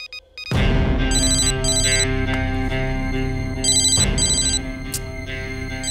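A mobile phone ringtone plays loud and close, a steady electronic melody whose bright chiming bursts repeat in a looping pattern for several seconds with no talking.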